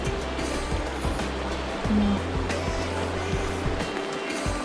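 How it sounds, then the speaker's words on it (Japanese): A river flows steadily past a snowy walking path in a sparsely populated part of Okhotsk, a continuous broadband water rush with low rumble, close and fairly loud throughout. "あのこの川の流れっていうのがいいですね。"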